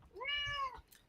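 A house cat gives a single clear, rising-then-falling meow lasting under a second, fairly quiet and heard on its own.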